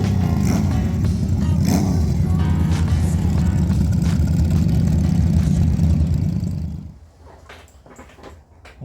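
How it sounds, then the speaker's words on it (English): Motorcycles on a road trip through Kansas and Oklahoma, a loud continuous engine rumble with wind that holds steady, then drops away sharply near the end to a quieter background. "I love just how different each one of our bikes sounds."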